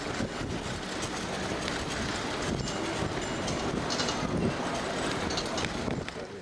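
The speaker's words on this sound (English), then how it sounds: "We are at the Bike and Ride, Malmö Central Station" Trains at Malmö Central Station, a continuous broad rumble and rolling rail noise with wind buffeting the microphone, steady and fairly close throughout.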